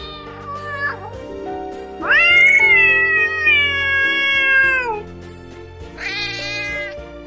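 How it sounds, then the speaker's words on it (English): A cat meows several times, long drawn-out cries with a short one first and another after a pause, loud and close. "Cat is a very, very naughty and cute animal."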